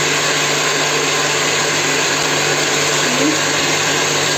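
An electric mixer whisks cake batter with sugar, a loud, steady motor whine and whirr running unbroken, close up and alone.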